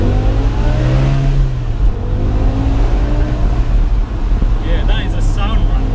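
A BMW M5 E60 with its V10 engine running: a loud, steady, deep drone that rises and holds, with wind buffeting the microphone throughout.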